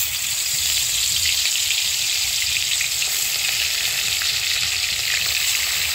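Koi and puti fish frying in hot oil at an outdoor cooking spot, giving a loud, steady, dense sizzle and crackle that continues without a break and carries no voices.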